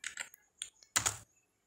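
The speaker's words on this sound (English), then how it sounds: "Just type PL for polyline and I offset it" Short AutoCAD command typed on a computer keyboard, a few quick close key taps followed by a louder burst of strokes, then quiet.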